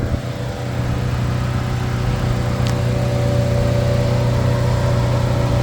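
A 2009 Chevy Cobalt's engine idles steadily under the open hood, giving a constant mid-pitched hum with a faint whine on top, heard close and without any talk.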